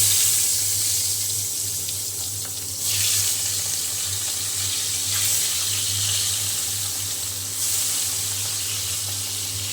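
Pabda fish coated in turmeric, coriander, chili powder and salt fries in hot oil, giving a steady, close sizzling hiss that swells in a few louder bursts.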